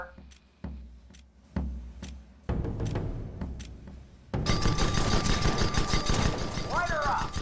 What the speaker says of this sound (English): He's going to get on the Gatling gun to strip the next target's armor